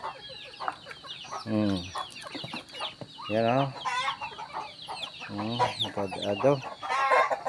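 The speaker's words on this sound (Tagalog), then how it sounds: "Dami naming manok dito." Chickens and a rooster on a farm cluck and call in repeated bursts, fairly close, with a few crowing notes, while a person talks briefly between the calls.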